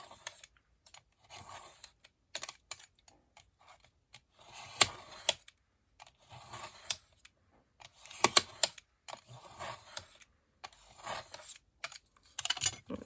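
Pages of a small vintage postbox-style mini journal being cut a few at a time with repeated downward strokes, giving crisp, sharp scraping bursts with short pauses between them, close and fairly quiet with no talking.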